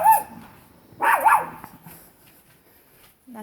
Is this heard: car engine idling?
no